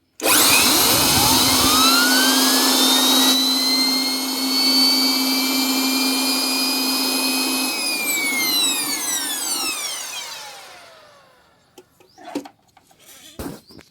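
A loud Ford tractor engine fitted with an AR42 exhaust muffler revs high and roars steadily for several seconds, then winds down and cuts off, leaving faint clicks and clatter.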